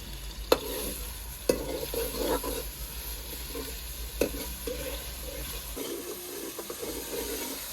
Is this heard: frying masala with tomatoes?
yes